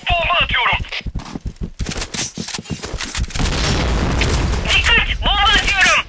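A bomb goes off in the video game Point Blank as a loud boom among bursts of gunfire, with a voice speaking before the blast and voices returning near the end.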